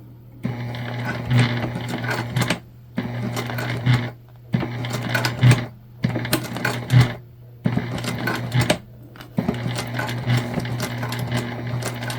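A sewing machine stitches a jelly vinyl zipper pouch in several steady whirring runs separated by short pauses, close and clear, with no talking.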